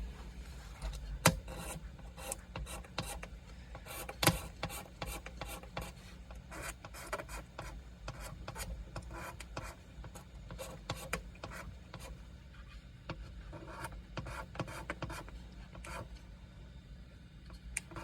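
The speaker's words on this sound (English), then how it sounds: "Razor blade." Razor blade scraping the wood of a Martin HD-28 guitar, quiet and close, a fast run of short rasping strokes repeating steadily.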